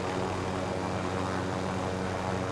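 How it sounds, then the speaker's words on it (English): A video game helicopter drones steadily with a low, throbbing rotor hum and engine whine, continuous and even, with no voices over it. "The helicopter."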